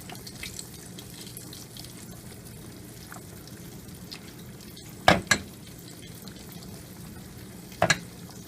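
Coated chicken pieces fry skin down in a hot pan, giving a constant soft sizzle and hiss with two sharp, close clacks as pieces are set in or the pan is handled.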